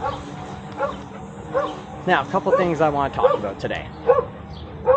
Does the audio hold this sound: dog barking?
yes